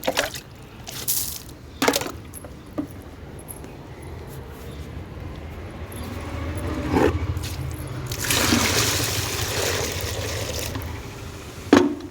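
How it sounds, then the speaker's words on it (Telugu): Water trickles and splashes steadily, with a few sharper sprinkling bursts scattered through and a louder spray near the end, close by. "నీళ్ళు పోసుకుంటూ అయితే ఇక్కడ మొత్తం వాళ్ళకైతే చల్లుతున్నాను"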